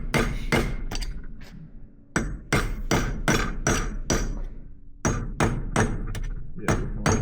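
A hammer pounds a bent spindle on an air seeder, loud metallic strikes in several rapid bursts of three to five blows separated by short pauses, close by.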